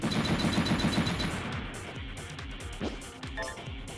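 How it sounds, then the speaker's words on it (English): A machine gun fires in the PlayStation 2 game Metal Saga. A dense rapid burst comes first, then scattered lighter shots and game effects trail off, all at moderate loudness. "Machine gun!"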